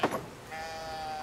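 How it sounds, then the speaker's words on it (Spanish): A sheep in the video game Brothers: A Tale of Two Sons gives a single drawn-out bleat, clear and close, between short bursts of other game sounds and no speech. "¡Wow! Pobre oveja."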